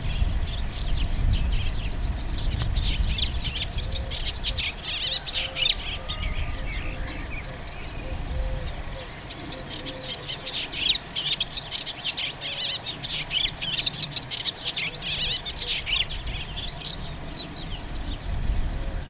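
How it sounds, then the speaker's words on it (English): An Eastern olivaceous warbler calls with repeated chirps and tweets during birdwatching on Lesvos. Its moderately near song recurs steadily over a soft outdoor wash, with wing flutters and other faint birds in the background. "Eastern olivaceous or olivaceous warbler."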